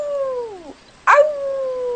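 A voice imitates a wolf howl, with two close, drawn-out calls. Each one slides downward, and a short sharp break separates them.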